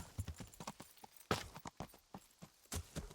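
Horse hooves clip-clop in the medieval role-playing video game Kingdom Come: Deliverance: a steady run of sharp, close hoofbeats, loud and clear, with no talk over them.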